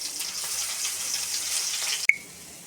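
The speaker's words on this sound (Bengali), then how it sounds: "পেঁয়াজ ভেজে নিচ্ছি" Onions fry in hot oil in a wok with a steady, bright sizzle that ends in a sharp click and a quieter hiss.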